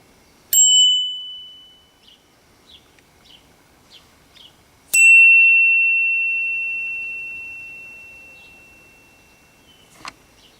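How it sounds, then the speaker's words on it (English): A standard original bike bell gives one short ring that fades within about a second, then several faint ticks. An Oi bicycle bell follows with a loud, pure ring that sustains for about five seconds. A small click comes near the end. "I tested my original bell followed by the Oi"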